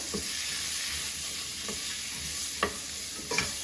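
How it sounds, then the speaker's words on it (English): String beans and peas being stirred in an oiled frying pan, with a steady sizzle and a few sharp utensil scrapes against the pan, close and fairly loud, no talking. "And then I'm mixing all them together."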